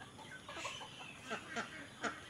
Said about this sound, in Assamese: দেখিবলৈ পাইছে এইখিনি হাঁহখিনি